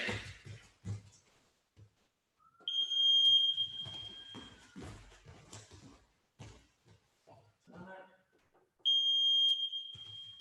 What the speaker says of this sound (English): we're going to start the timer for our warm-ups